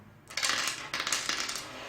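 Flat dice drop into a cup with a quick cluster of hard plastic clatters and rattles, close up, settling over about a second and a half.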